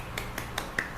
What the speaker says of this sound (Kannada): ಅದಕ್ಕೇನೆ ಒಂದು ಚಪ್ಪಾಳೆ